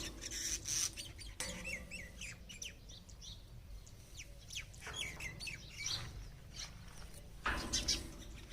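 Myna birds chirp and call outdoors from wires near a rural home, faint and somewhat distant, with irregular bursts of whistles and chatter over low background noise.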